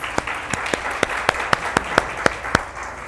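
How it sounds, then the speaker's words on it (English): Scattered applause from a small audience at an education program event, a handful of sharp distinct claps over a steady patter of softer clapping, brief and moderately loud. "give yourselves a round of applause"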